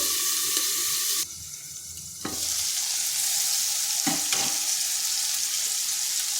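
Pointed gourd (potol) frying in oil in a pan alongside potatoes, giving a loud, close, continuous sizzle that drops briefly as the pan is disturbed, then swells back with a few stirring clatters.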